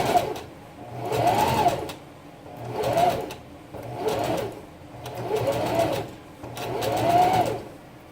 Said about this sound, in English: I'm going to sew the edge.